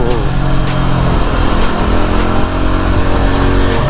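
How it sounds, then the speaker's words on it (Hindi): A Yezdi Adventure motorcycle rides through city traffic, its engine droning loudly and steadily with wind rush, while a rider talks over it. "तो सिटी ट्रैफिक में चला रहा हूँ मैं यसदी एडवेंचर।"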